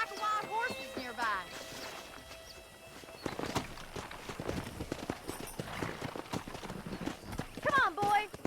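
A horse gallops in the Red Dead Redemption video game, its rhythmic hoofbeats close and clear, with brief whinnies and voices heard now and then.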